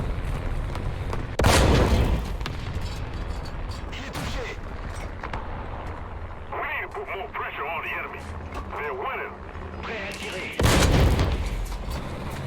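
Tank cannon fire from an AMX-13-M24 in an online tank battle game, two loud booming shots several seconds apart amid engine and battle noise.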